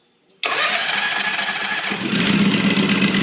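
A propane-powered floor burnisher engine cranks and catches after a short silence, then settles into a loud, steady idle with a slight rise in pitch toward the end; no one speaks.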